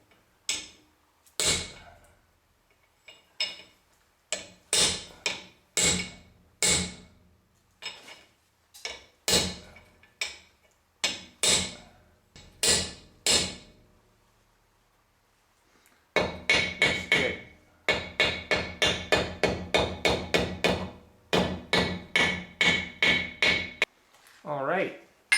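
A new seal being hammered into a rear differential, close sharp metallic blows in irregular bursts, then a fast rapid series of strikes after a short pause.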